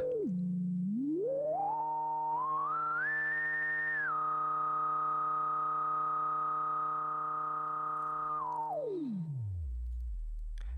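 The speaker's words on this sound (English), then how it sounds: "It's a four pole filter. It does self resonate, as you can hear." A self-resonating four-pole synth filter based on the 3320 chip rings as a pure whistling tone, sweeping up in steps, holding steady, then gliding back down into a low hum.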